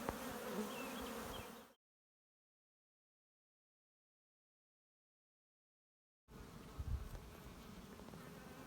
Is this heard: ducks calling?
no